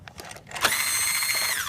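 A power screwdriver removes screws from an MS-B8 LED moving beam bar: a short tap, then a steady, close whirring drive lasting about a second that winds down at the end.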